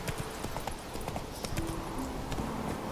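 Horse hooves clip-clop steadily on hard ground in The Witcher 3 video game, a quick, even trotting rhythm heard close up at moderate volume, with a few faint tonal game sounds behind.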